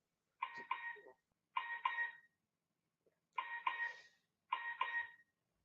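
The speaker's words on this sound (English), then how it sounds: "That's an alarm for something." An alarm repeats a paired electronic tone four times in an even pattern, each double beep separated by short silences, fairly faint and alone.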